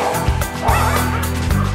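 Several dogs bark at a dog hotel and resort, sharp repeated yips and woofs overlapping in quick succession, close and fairly loud throughout.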